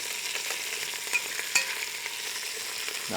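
Vegetables being stirred in a pan for caldo de pollo, a steady faint sizzle with a few light utensil scrapes and taps, no voices.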